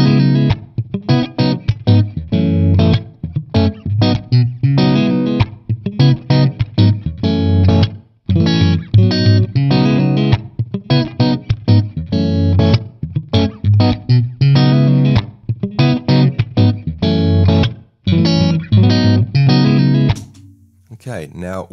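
Electric guitar played through a TONEX amp modeler with every effect engaged, including reverb: a loud, distorted riff with steady chugging chords and short breaks, continuous and up close, ending in a brief pause.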